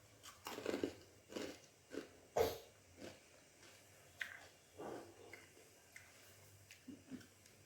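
Someone nearby chews crunchy, bitter sweets made with chickpeas and ajwain, giving a faint run of irregular crunchy bites and chews with quiet pauses between them, no talking.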